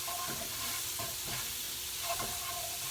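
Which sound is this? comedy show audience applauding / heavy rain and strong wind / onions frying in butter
onions frying in butter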